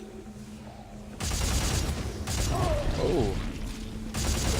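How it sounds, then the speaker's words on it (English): Rocket launcher blasts in the sci-fi horror shooter Dead Space 3, heavy loud bursts of booming noise starting abruptly and recurring in long roaring stretches, with a brief exclamation from a player over the din. "Luckily, I have a rocket launcher."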